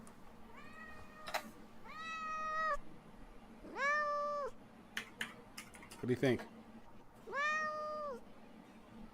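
A house cat meows repeatedly and close by, four drawn-out rising-and-falling calls spaced a couple of seconds apart, with people talking quietly and some light clicks and taps between meows.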